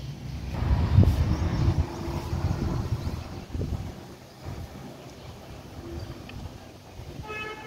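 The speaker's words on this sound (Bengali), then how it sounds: "আজকে একটু হাওয়াও দিচ্ছে, দেখো" Outdoor wind blows past the microphone in gusts, rumbling loudest early on and easing to a softer steady rush, with a faint distant tone near the end.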